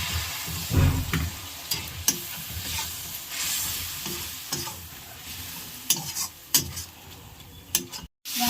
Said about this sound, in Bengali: একটু অল্প জল নিয়ে মশলার মধ্যে দিয়ে মশলাটা কষিয়ে নেব